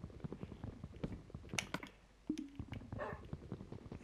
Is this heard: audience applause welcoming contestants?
no